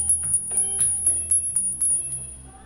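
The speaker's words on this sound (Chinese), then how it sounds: "它声音是非常的清脆高音。" A small silver teardrop-shaped bell jingles repeatedly with bright, crisp, high-pitched rings, each strike short and close, heard indoors in a silver jewelry shop.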